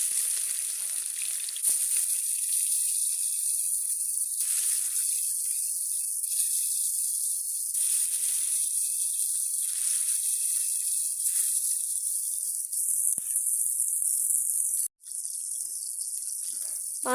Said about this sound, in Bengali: লবণ হলুদ মাখিয়ে মাছগুলো তেলে ভেজে নিব